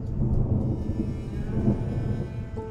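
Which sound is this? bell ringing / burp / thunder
thunder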